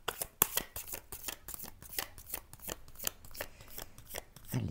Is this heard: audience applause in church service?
no